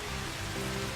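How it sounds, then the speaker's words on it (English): Rain cloud power from the video game Starcaster, a steady, dense hiss of falling rain with a low rumble underneath, continuous for about a second with no voices. "8 is a rain cloud"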